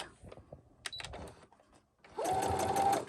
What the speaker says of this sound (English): go ahead and sew it back the other way